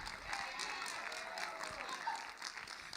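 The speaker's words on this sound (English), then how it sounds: "So give my panel of 7 a round of applause." Applause from a women's empowerment conference audience for a panel, a dense wash of clapping from a room crowd, fairly soft and continuous for a few seconds.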